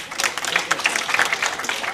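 Audience applause welcomes a speaker at a data conference, a dense continuous wash of many hands clapping, loud and close, with a few voices faintly mixed in.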